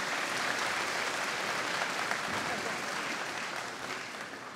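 Audience clapping at a school graduation ceremony, a steady, fairly faint wash of applause that holds evenly and tapers slightly toward the end, with some voices mixed in.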